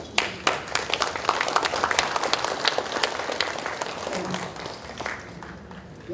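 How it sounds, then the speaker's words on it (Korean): An audience at an academic conference on the Donghak Peasant Revolution bursts into applause, a crackling mass of clapping hands with sharp individual claps standing out, steady before easing slightly toward the end. "박수 한번 치십시오."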